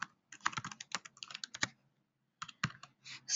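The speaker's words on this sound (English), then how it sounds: "I'm going to type a few entries into this" Entries being typed on a computer keyboard, heard as close, quiet clusters of quick key clicks that stop for a brief pause and then pick up again in a short burst.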